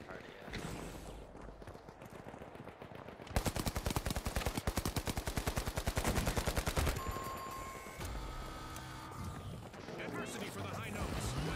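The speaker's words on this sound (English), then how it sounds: "Ah, getting sniped from behind." Gunfire in The Finals video game, where a sniper shoots from behind. A long, fast, loud burst of rapid shots runs for several seconds among mechanical clatter and game effects, with scattered talk.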